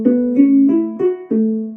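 Plucked string instrument tuned to the Ethiopian tizitta scale, a few separate low notes ringing clearly one after another, close and alone with no talking.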